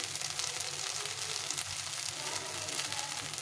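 Taro mash with salt and turmeric powder fries steadily in a pan, giving a continuous close sizzle with faint stirring scrapes throughout.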